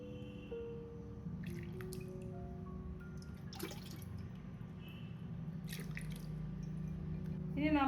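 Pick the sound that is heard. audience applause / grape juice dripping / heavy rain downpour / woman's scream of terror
grape juice dripping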